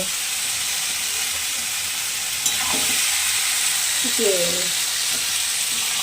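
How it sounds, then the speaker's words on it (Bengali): Food sizzles steadily in a hot pan, with a brief clink and soft stirring sounds partway through. "আর এই যে এখন আমি করছি রান্না"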